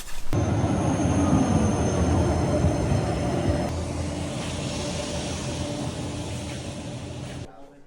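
A tram in Norway rumbles and rattles along the rails, loud and close, with a faint squeal, then fades as it eases; a voice speaks faintly underneath.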